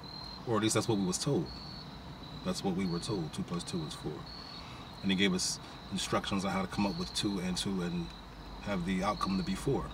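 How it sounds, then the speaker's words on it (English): Crickets chirp in steady, rapid pulsed bursts throughout, clearly audible beneath someone speaking at length in the foreground. "yes, what you hear is crickets."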